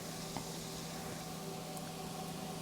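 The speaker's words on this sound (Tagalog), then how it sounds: "We'll cook the garlic until it's fragrant. And we have to keep on stirring" Garlic sizzling in a hot pan as it is stirred, a steady crackling fry with a few faint scrapes of the utensil, close and continuous.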